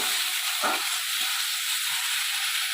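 Spiced masala cooking in oil in a pan for a jackfruit and potato curry, a steady soft hiss of frying with a few faint stirring clicks, close and continuous.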